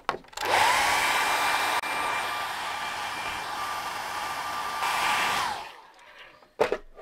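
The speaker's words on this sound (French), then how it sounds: "test de séchage au sèche-cheveux sur le Lexan" A hair dryer switches on and blows with a loud, steady whoosh and high whine onto Lexan, shifts setting partway, then winds down and clicks off.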